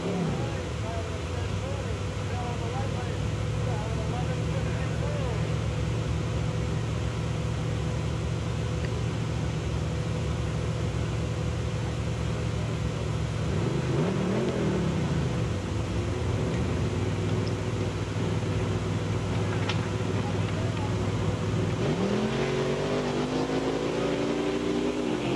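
A 1973 Datsun 240Z race car runs in a race, its engine drone steady and continuous throughout, with revs rising and falling near the middle and again toward the end, and a voice talking faintly underneath.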